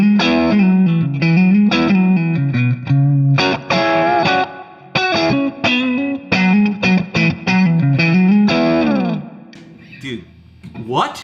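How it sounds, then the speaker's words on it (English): Distorted electric guitar played through a Plexi amp and speaker cabinet, loud, crunchy riffs and sustained chords with short pauses, ending in a fading ring and faint pick noise. "now let's listen to that same speaker, I'm sorry, totally different speaker, but same exact plexi amp setup here"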